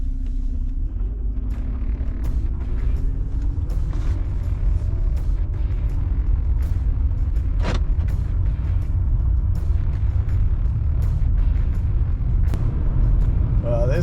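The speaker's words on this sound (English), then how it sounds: "go for a quick test drive" BMW car on a test drive after a battery replacement, steady low engine and road rumble throughout with a couple of brief clicks and squeaks, close and continuous.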